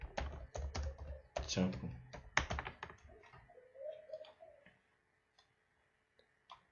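Typing on a computer keyboard: a quick run of close, crisp key clicks in irregular bursts, then sparse single taps after a pause, with a voice briefly speaking among the early keystrokes.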